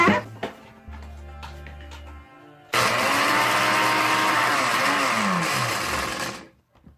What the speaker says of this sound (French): Ensuite, tu vas prendre ton mixeur.